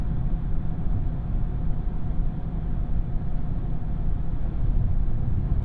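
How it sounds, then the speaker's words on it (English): Highway road noise inside the cabin of a 2016 Chevy Cruze Limited at speed, a steady low rumble and tire roar with broadband hiss, constant and enveloping. "You can hear a fair amount of highway noise inside the cabin."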